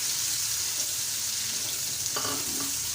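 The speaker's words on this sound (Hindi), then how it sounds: "तो चले हम इसमें प्याज शामिल करते हैं और प्याज को हम लाइट ब्राउन करेंगे" Onions frying in hot oil with spices for chickpea pulao, giving a steady, close hiss and sizzle with occasional stirring clatter; no one speaks.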